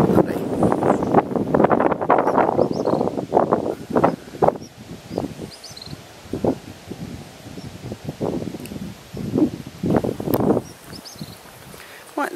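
Outdoor wind in a coastal residential neighbourhood in Christchurch, Barbados, buffets the microphone as a steady rushing roar beneath someone talking close by.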